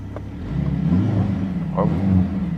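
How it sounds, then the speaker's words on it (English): A Mercedes-AMG GLC 63 engine hums and rumbles low with a deep exhaust tone and sound actuator, rising slightly as if revved, while a voice speaks briefly over it. "They can also hear how the sound actuator plays together with the rear exhaust"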